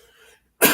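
A single sharp cough from a sick podcast host bursts out close to the microphone after a brief quiet pause.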